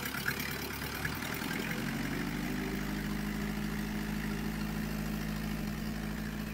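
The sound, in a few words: Isuzu Panther diesel engine idling after additive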